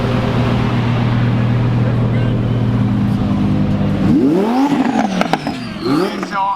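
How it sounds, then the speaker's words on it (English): A Rolls-Royce Wraith V12 sits on a cold startup, a quiet steady engine hum under surrounding chatter, then whooshing, swooping tones sweep in over the last couple of seconds. "This is a cold startup on a Rolls-royce Wraith. It has a V12, but it's very, very quiet."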